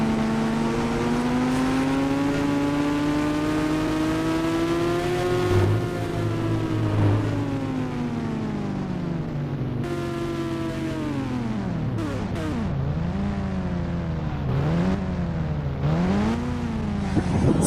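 A Kawasaki ZX10 motorbike engine in the mobile game Indian Bike Driving 3D hums steadily, then rises and falls in pitch through several quick revs and gear changes near the end. No voices.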